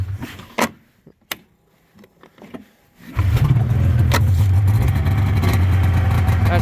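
A 1994 Polaris Indy 500 SKS long-track EFI snowmobile, running rich on its cold switch, starts after a few clicks and brief handling noises, then settles into a loud, steady, close idle.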